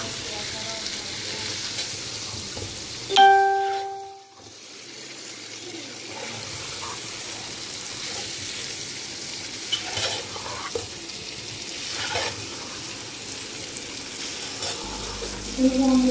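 Chicken frying in a pan, an even crackling sizzle running throughout, broken early by a brief high clatter and a short dip, with occasional stirring scrapes and faint background sounds.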